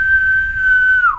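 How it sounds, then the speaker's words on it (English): A person whistles a single steady high note for about a second that bends downward at the end, loud and close with a faint low background rumble. "Nah, I was whistling."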